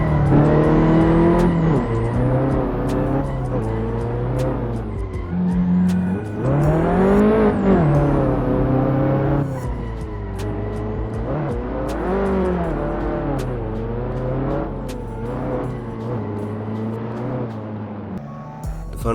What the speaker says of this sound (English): So for the next car, it's the Abarth 500 SA Step 1.